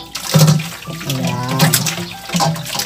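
Running tap water pours steadily while pork intestines are rinsed and handled in a sink, producing a close, continuous splashing stream with a few fuller gushes.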